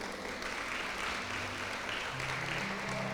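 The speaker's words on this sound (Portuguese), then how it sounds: "Uma salva de palmas para esse santo varão aqui" A church congregation at a worship service applauds a speaker being honoured, with a continuous wash of clapping from many hands at even loudness, under faint tonal music.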